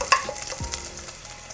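Bacon fries in its own rendered fat, a brief close sizzle with a sharp scrape near the start and soft stirring after.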